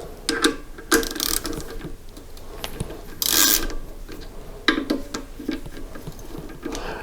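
A ratchet backing out the clutch bolts on a 1983 BMW R80ST, with close repeated clicking and rasping turns in short bursts and metallic knocks between them.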